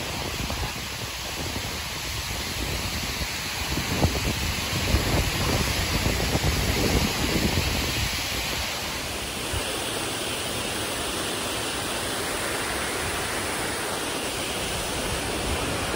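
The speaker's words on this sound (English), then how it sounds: "A real breezy out here." Breezy wind blows outdoors at sunset, a constant broad rushing roar close to the microphone that gusts slightly in the middle and then settles into an even, steady wash.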